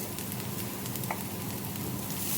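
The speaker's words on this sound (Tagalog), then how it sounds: "So I'm going to add this the rice." Rice frying in a pan with browned garlic and onion gives a steady, even sizzle that holds throughout at moderate loudness, with no voices.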